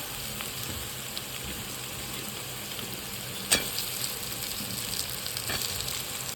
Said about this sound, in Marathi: आता त्याच्यामध्ये आपण बारीक चिरलेला बटाटा टाकून घेऊया.